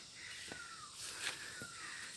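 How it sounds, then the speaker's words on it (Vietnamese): Birds calling in a hillside forest on an uphill trail: two drawn-out, falling, crow-like calls a second apart, moderately distant over a soft outdoor hush, with no talking. "Nghe tiếng chim hót chưa?"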